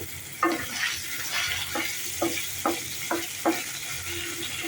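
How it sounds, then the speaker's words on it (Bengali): Cubes of paneer fry in hot white oil in a kadai, a steady close sizzle broken by regular scraping stirs of a spatula, repeating about every half second to second. "পনিরটা দিয়ে দিলাম, হালকা একটু লাল করে ভেজে নেব"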